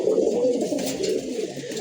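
Breeder and racing pigeons kept at a home loft coo close by in a soft, low, repeated throaty burble, alone with no talk.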